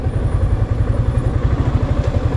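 A motor cab engine runs steadily and loudly nearby on a land trip in the Philippines, with a rapid low throbbing pulse and rattling clatter throughout.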